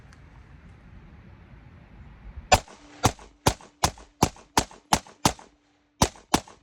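Ten suppressed 5.56 rifle shots fitted with a quiet cap suppressor, sharp muffled cracks fired in a fairly even rhythm about every half second, close and loud, after a low outdoor hush.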